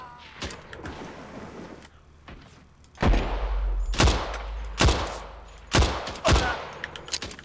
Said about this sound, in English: So when you get those little bullet whiz sounds